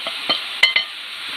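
Carrot and bamboo shoot fry in a pan with a constant sizzle, broken by several sharp scrapes of a spoon stirring, close and fairly loud with no talking.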